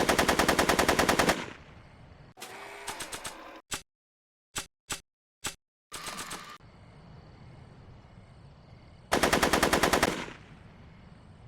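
Bursts of rapid automatic gunfire come in long rattling volleys, broken by a few separate single loud shots and short silent gaps.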